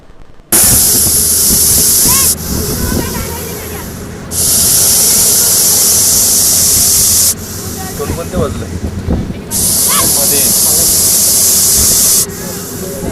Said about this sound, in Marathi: घोणशीचा फुतकार हा अक्षरशः कुकरच्या शिट्टी एवढा मोठा असतो